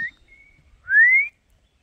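A child whistles two short notes: a brief steady tone, then a louder rising whistle lasting about half a second, alone in a quiet setting.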